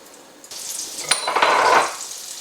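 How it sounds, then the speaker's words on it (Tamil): Crackling and sizzling burst up as herbs hit hot oil for homemade hair oil, a short hissing spatter following a clink of a pan. "இந்த படப்படன்னு பொரியிற சவுண்டு வந்து நல்லா அடங்கணும்"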